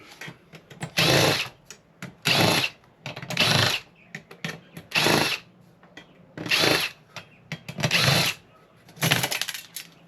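A power screwdriver removing steel screws from a small shield inside a server being scrapped, running in about eight loud, close bursts of a second or less, separated by short pauses.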